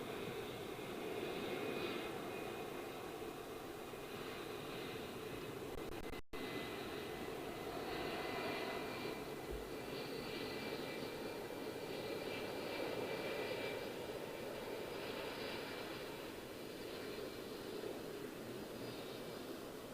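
A jet airliner departs Heathrow Airport on a derated takeoff, its engine roar a steady, broad rumble that holds at a distance for the whole stretch with no talk over it.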